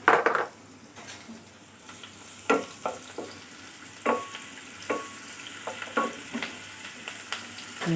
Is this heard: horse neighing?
no